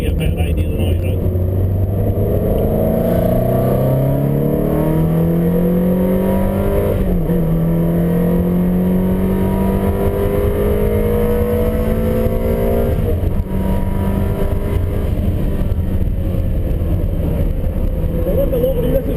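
Ferrari engine lapping Knockhill race track, heard from inside a car through an open window: a loud, continuous drone with rising and falling revs and gear shifts over about twenty seconds, steady and close throughout.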